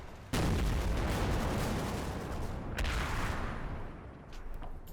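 Mortar rounds in Combat Mission: Battle for Normandy land with a heavy, sustained booming rumble that holds loud across the whole stretch, broken by a sharper blast midway, with no talk over it.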